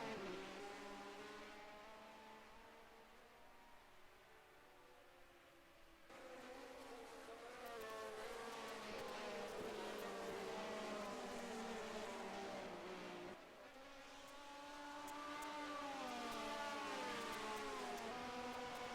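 Formula 1 race cars from a 1971-era Dutch Grand Prix lap a circuit, their high-pitched engines whining continuously and shifting pitch as they pass, with loudness swelling and dipping across several passes; no talk.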